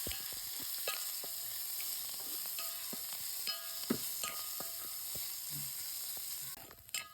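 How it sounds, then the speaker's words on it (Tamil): Onions frying in oil in a home kitchen pan, a steady hiss of sizzling with frequent stirring clinks and scrapes throughout, close and continuous. "வெங்காயம் நல்லா ஈரம் பற்றிட்டு கொஞ்சம் எண்ணெய் ஊற்றும்."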